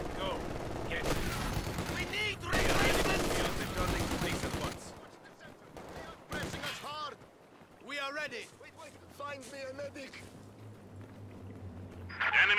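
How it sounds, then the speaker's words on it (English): Machine gun bursts rattle through a Company of Heroes 2 battle, dense rapid fire dominating the opening seconds, then scattered shots and combat noise with voices calling out over the fighting. "Machine gun opened up!"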